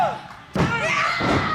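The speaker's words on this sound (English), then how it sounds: "Slams her down to the canvas" A wrestler is slammed down onto the ring canvas during a women's wrestling match, a single sudden loud thud followed by a commentator talking and crowd noise.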